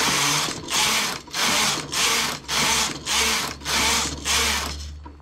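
A domestic knitting machine carriage is pushed back and forth across a row of needles, set to working tension 7, giving eight regular whirring, ratcheting passes in steady rhythm, close and loud with no talk.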